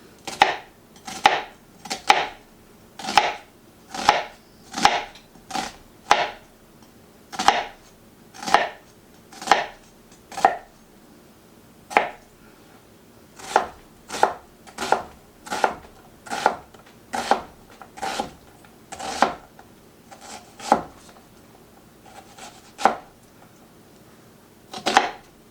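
Knife chopping an onion for minestrone soup, steady sharp thuds on a cutting board repeating about once a second, close and clear, with no talking.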